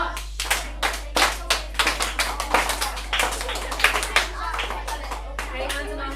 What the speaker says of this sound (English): then we're going to clap our rhythm